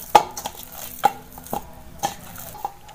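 Holige dough being kneaded by hand with oil: close, soft sticky slaps and squelches come at an irregular pace of roughly one to two per second, with no voices.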